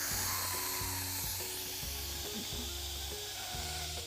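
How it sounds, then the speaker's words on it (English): Steady broadband hiss of steam venting from an Instant Pot pressure cooker on quick release, loud and continuous for the whole stretch, with faint low mechanical tones underneath and no talk. "we're gonna turn it to quick release, which is turning it to venting so all the steam will come out"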